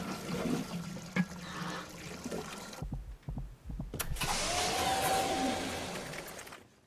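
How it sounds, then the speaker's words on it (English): Water rushes and pours as it fills a tank in the TV series The OA, a steady gush that briefly drops out, then returns louder before cutting off. "It's filling it with water?"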